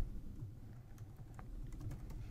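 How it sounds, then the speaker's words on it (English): Quick, light keystrokes on a computer keyboard entering a username and password, a brief irregular patter of clicks close by over a low hum, no speech. "I'm going to type in my username and password for the terminal."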